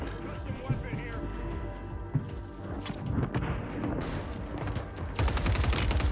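Rapid bursts of automatic gunfire and scattered single shots in a Warzone gulag firefight, loud and close, with a fast rattling volley near the end, while voices talk over the fighting.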